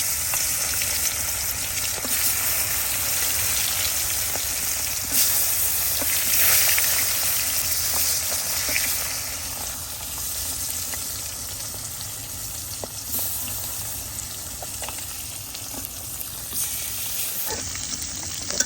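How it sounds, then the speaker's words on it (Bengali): Koi fish fry in hot oil in a wok with a steady, dense sizzle and hiss that swells slightly early on, then continues evenly and close, with no voices over it. "তেলও দিয়ে দিছি এখন দিয়ে দিব মাছগুলা"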